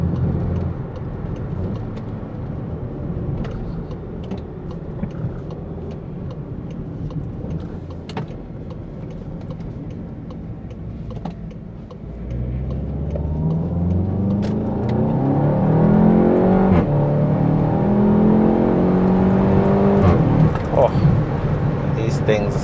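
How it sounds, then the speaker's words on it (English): A 2016 VW Golf 7 GTI Clubsport with a free-flow exhaust drones at steady cruise, then opens up in a loud rising rev run with gear-change sweeps in the second half, heard from inside the car. "And of course it has a free flow exhaust, which sounds, yeah, it sounds menacing."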